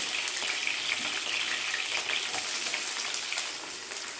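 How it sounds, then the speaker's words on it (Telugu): Green chilies and onions frying in oil in a hot kadai for a mutton fry, a steady bright sizzle with faint stirring scrapes throughout, no voices. "ఆయిల్లో పచ్చిమిర్చి ఉల్లిపాయలు వేసుకొని కలుపుకోవాలి"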